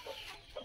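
A five-month-old young stag chicken gives a couple of short, close clucks, quick and clipped, with no talk over them.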